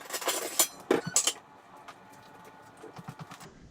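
A metal baking tray clinks and clatters as it is handled, with a quick burst of sharp metallic knocks at first, then softer scattered taps, close and alone.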